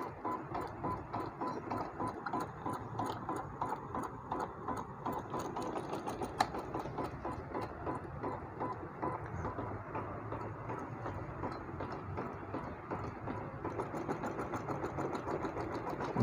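Janome 8200 embroidery sewing machine stitching an embroidery design, a steady, continuous mechanical whir with a rapid needle rhythm, close and constant throughout with no talking.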